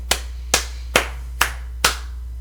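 Five slow, evenly spaced hand claps ring out close and crisp, alone over a steady low hum.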